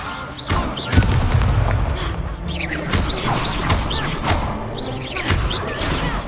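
Repeated spell blasts and booming explosions crash through a fight in Hogwarts Legacy, with sharp impacts and whooshes in a dense, loud, continuous barrage.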